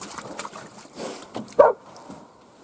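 A dog barks from somewhere near a taiga cabin, giving a few short, scattered barks at moderate distance, with one louder bark standing out amid faint background noise.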